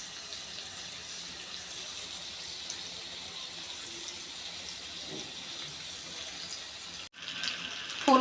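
Water runs and splashes softly as cut potatoes are washed, a faint steady trickle with a few small clinks, broken by a sudden brief cutoff and a louder handling clatter at the end; no talking.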